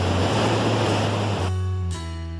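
Loud, constant roar of rushing water at the Rio Bonito waterfall, a dense, broad wash close to the microphone that drops off abruptly after about a second and a half, with no talk.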